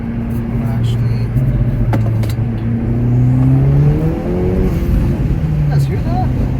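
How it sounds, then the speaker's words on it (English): Acura Integra Type S engine with a PRL intake revving, a loud rumbling idle that rises into rev sweeps with intake whoosh, heard outdoors under and around someone talking. "let's listen to how this intake sounds real quick"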